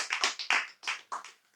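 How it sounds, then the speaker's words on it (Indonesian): Scattered applause from a small audience at a religious talk: a handful of distinct hand-clap bursts in uneven rhythm, fairly faint and without speech. "Tepuk tangan untuk Mr. TM dengan taklim marifatnya."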